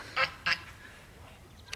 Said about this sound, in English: and our neighbor's goose, Gabrielle.